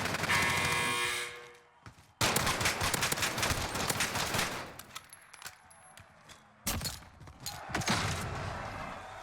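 Pistol gunfire in the video game Warzone: bursts of rapid, crackling shots in clusters, separated by brief quiet gaps, with loud game sound effects throughout.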